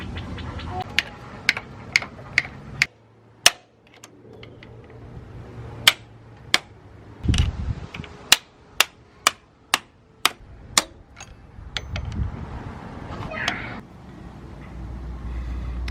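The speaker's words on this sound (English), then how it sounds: "so now we just need to I guess pry this out of here" Sharp metallic knocks and taps ring out irregularly as a water pump is pried out of a Mk4 Jetta VR6 engine, close and clustered, with low background noise between the hits.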